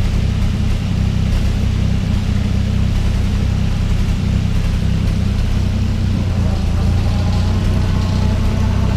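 A 1964 Jeep CJ5 M38A1 engine runs steadily in first gear on a lift, turning the back wheels, with a loud, constant low rumble and drone that does not change throughout.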